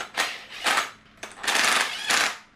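A power driver runs bolts down on a Jeep engine rebuild, giving five short whirring bursts, some longer than others, close up with no talk.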